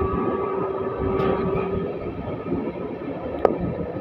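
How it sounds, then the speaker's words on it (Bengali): Steady low rumble of the Balurghat Express LHB train running from Malda Town towards the Mahananda bridge, a continuous even drone with a faint tone and one brief click near the end. "মালদা টাউন পার করে ট্রেন এখন আসছে মহানন্দা ব্রিজে"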